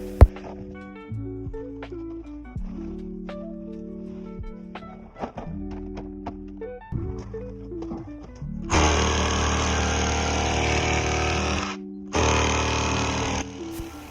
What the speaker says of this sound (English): Just going to take the rest of that loose sand off with my breaker